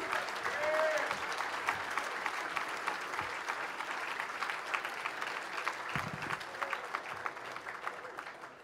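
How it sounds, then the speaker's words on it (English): Sustained audience applause for Minister Louis Farrakhan at a pre-Ramadan banquet, a dense crowd of clapping held for several seconds with a few voices calling out over it. "Can we give Brother Minister Louis Farrakhan another well-deserved round of applause?"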